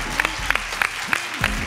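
An audience claps for a contestant named Aram on the X Factor stage. Steady, rhythmic applause runs through the short moment with a voice mixed in.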